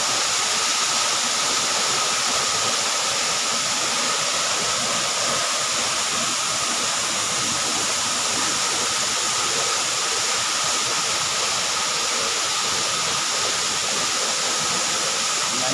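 Inambakan Falls in Ginatilan, Cebu roars in a dense, unbroken rush of falling water, loud and steady from start to finish with no voices over it.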